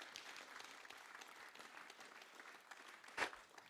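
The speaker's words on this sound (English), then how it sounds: "Could we please give a round of applause to our actors" Faint, distant audience applause for the actors at a screenwriters academy showcase, soft steady clapping with one sharper clap near the end.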